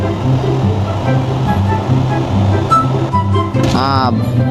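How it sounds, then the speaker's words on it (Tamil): A jeep accelerating at full speed in a car video game: a steady, loud engine drone with rushing noise, a rising whine near the end, and someone talking over it. "வண்டியை ஃபுல் ஸ்பீடில் அழுத்திக்கிருக்கோம்"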